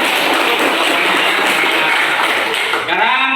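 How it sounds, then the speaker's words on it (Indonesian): Classroom audience applauding, a dense, loud wash of clapping that holds steady and then trails off, with voices heard near the end. "terima kasih, tepuk tangan"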